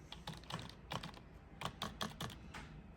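Typing on a computer keyboard running a custom low-level keyboard driver, with clusters of sharp key clicks in an irregular rhythm, close and moderately loud, with no talking.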